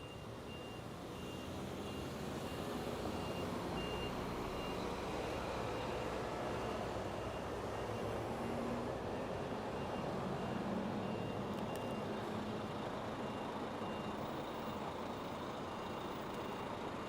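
A bus runs on an early morning street in Taipei, heard as a steady, broad traffic rumble with engine noise that stays loud and constant. No one speaks.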